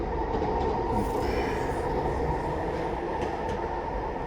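A freight train with tank cars rolls through a railway yard, a steady close rumble of wheels and rail noise that holds at full strength throughout, with faint clicks and squeal traces above.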